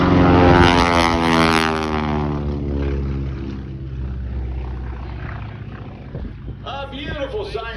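A PT-17 Super Stearman biplane's radial engine roars during an aileron roll at an air show, loud and sustained with shifting pitch as the plane passes, while an announcer talks over it.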